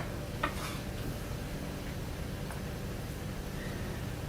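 Sliced garlic frying in a generous drizzle of olive oil in a pan, giving a steady, even sizzle that carries throughout at moderate loudness, with a light tap or two of a utensil.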